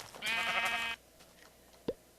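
Sheep in Minecraft gives one clear, close bleat lasting under a second, followed by quiet game ambience and a small plop-like blip.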